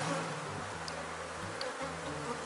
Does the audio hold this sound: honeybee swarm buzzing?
yes